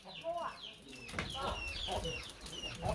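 Chickens on a farm clucking and chattering close by, several birds calling in quick overlapping bursts, with a voice talking partly over them.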